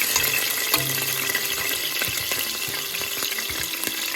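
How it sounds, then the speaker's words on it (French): Shrimp frying in hot oil in a pan, a steady close crackling sizzle with scattered pops and light stirring clatter throughout. "Je vais un peu faire dorer les crevettes dans de l'huile"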